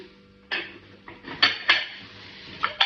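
Elongated ceramic plates clink and knock together as they are handled, five or six sharp, close contacts spread over a few seconds in a quiet room.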